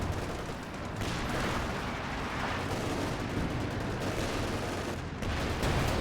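Calliope rocket artillery barrage in a competitive video game match, a dense, roaring wall of overlapping launches and blasts, loud and sustained with brief dips, no talking over it.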